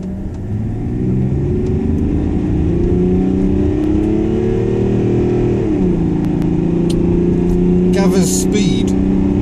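Engine note of a car driven hard in sport mode on clear roads in Wales, droning steadily as revs climb through a gear change and build again, loud and close, with a voice talking over it.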